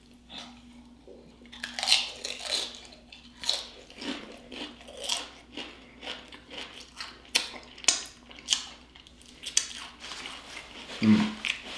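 Extra cheese Doritos chips being bitten and chewed up close, with a steady run of loud crisp crunches, quiet speech between some bites.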